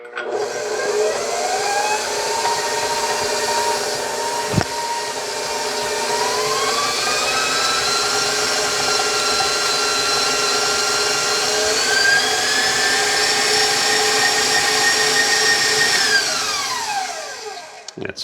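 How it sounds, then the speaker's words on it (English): An electric hand mixer whirs through cake batter with an added egg, a loud continuous motor whine that shifts pitch as it runs, then winds down at the end. "I'm just going to mix it for about 20 seconds and then scrape it down."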